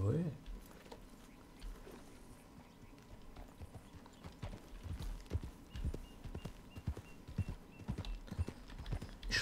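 Horse hooves clip-clop at a steady walking pace in the video game Red Dead Redemption 2, fairly close, with occasional snorts and chewing sounds while people talk over it.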